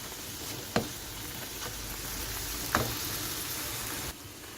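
Food sizzling steadily in a pan during keto meal prep, a constant soft hiss with two brief louder crackles and a quieter dip near the end, heard alone without speech.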